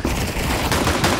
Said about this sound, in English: Oh, the Negev though from Wiz, it's too strong.